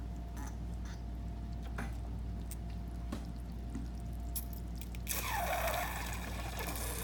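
Water pumped from a well onto an alfalfa field in a small groundwater demonstration, a faint steady trickle and drip that swells into a louder pouring rush near the end.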